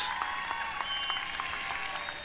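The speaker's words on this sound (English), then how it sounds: "So, round of applause." A graduation ceremony audience at a military institute applauds, dense continuous clapping at moderate volume with scattered sharper claps throughout.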